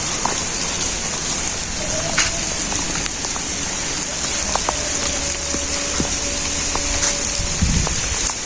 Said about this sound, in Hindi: बारिश काफ़ी तेज़ है